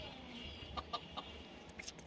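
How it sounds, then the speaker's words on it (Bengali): Chickens in a small backyard coop of four hens and a rooster, giving a few soft, fairly distant clucks over quiet outdoor background. "গাছের সাথে দেখো আমার মুরগির খামার"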